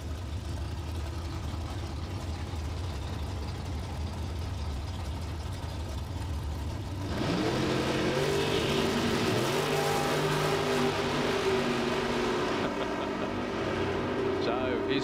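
Drag racing engines from a Cortina and a dragster in a Super Pro elimination, a steady rumble that jumps into a loud, sustained roar halfway through as the cars launch down the strip.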